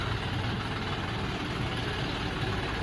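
A Jondia tractor engine idling close by, a loud, steady low rumble with an even throbbing pulse and no pauses, no voices.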